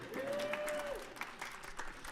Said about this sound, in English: let's give him a round of applause for coming up with that